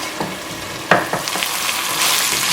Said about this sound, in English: we're going to brown this meat for about 10 minutes on high flame